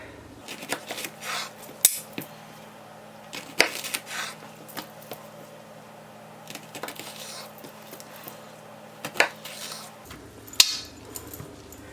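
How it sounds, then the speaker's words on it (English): A knife chopping jalapeño peppers on a cutting board, ahead of making air-fryer jalapeño poppers: irregular close taps and clicks of the blade, some sharp clinks, scattered across a quiet kitchen. "So first I'm going to cut up all the jalapenos"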